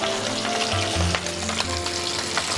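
Fish frying in hot oil in a covered pan, a steady loud sizzle and crackle filling the whole stretch with no voices.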